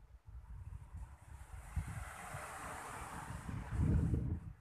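Wind and surf at a coconut garden on the beach edge, a steady broadband rush with low gusty rumble and wind buffeting the microphone, swelling louder near the end, with no voices.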